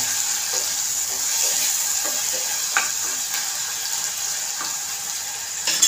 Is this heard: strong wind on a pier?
no